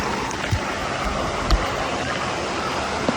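Daranak Falls in Tanay, Rizal: a steady, broad rush of falling water fills the scene at an even level, with a few faint knocks and no clear talk.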